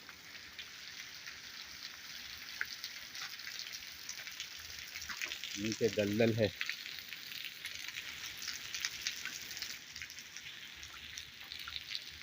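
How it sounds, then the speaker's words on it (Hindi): Steady rain patters and hisses across the clip in a dense forest by railway tracks, with a brief low rumble midway and a few quiet spoken words under the downpour. "और बारिश भी हो रही है और बारिश भी बड़ी ख़तरनाक है दोस्तों।"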